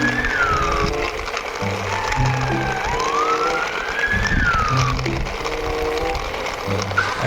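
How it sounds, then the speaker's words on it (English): A toy ambulance sounds its siren in a loud, rising and falling wail that keeps going throughout, with a rumbling background of toy play underneath. "Next one is here, emergency vehicle ambulance."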